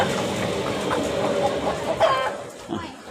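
Live chickens cluck in a busy Thai fresh market selling ducks and chickens, a steady crowded din of fowl calls and market bustle with no clear talk.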